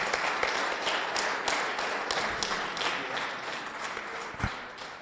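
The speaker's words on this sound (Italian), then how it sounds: "Un ultimo applauso alla direzione di gara." Applause for the match officials at a high-level raffa bocce tournament, a steady, moderately loud wash of clapping from a crowd, with a few sharper claps and a thump near the end.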